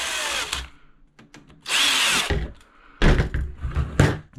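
A power drill drives screws into alpine ski touring adapters in three loud, close bursts of whining motor and grinding, separated by short pauses and faint handling knocks.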